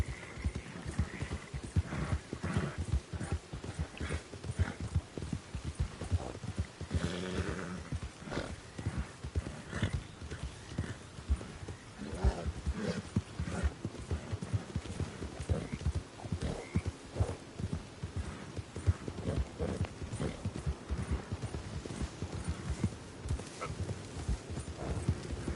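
Horse hooves clip-clop steadily through a Red Dead Redemption 2 game scene, a continuous rhythmic trot with an occasional whinny mixed in, fairly loud and close throughout.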